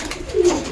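A pet pigeon gives a short, close, resonant coo while being handed probiotic feed, one low burbling call rising briefly over quiet surroundings.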